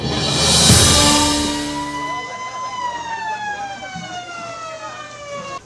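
A barangay fire truck siren in Talisay City wails loudly up close at first, then its falling tone continues more steadily as the vehicle holds near, a single sustained siren with faint background noise.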